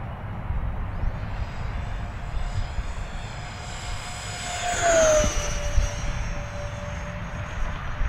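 An E-flite A-10 Thunderbolt II RC jet with twin 64mm electric ducted fans, loaded with missiles and bombs, flies over a grass field. A steady whooshing fan whine rises and swells as it passes near, then eases off.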